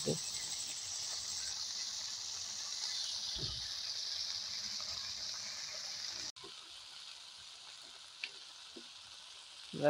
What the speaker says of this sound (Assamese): ভাজি লোৱাৰ পিছত কুচিয়া মাছখিনি দি দিলোঁ।